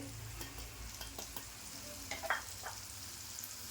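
Ground spices including garam masala and Kashmiri red chilli powder stirred in hot oil, a faint soft sizzle with light spoon taps and a brief scrape midway, no voices.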